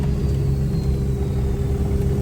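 Lifted monster truck on 40-inch tires, its cold, not-yet-warmed motor idling with a steady, deep rumble and a faint whine above, close and continuous with no talk.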